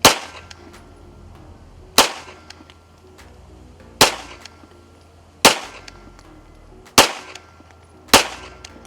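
Six loud pistol gunshots at an outdoor range, fired one-handed with the strong hand at 5 yards, each a sharp close crack spaced about every one to two seconds, with quiet gaps between.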